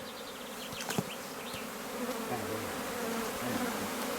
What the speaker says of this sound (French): Là, on est sur une ruche qui a une population, on peut estimer de combien d'individus?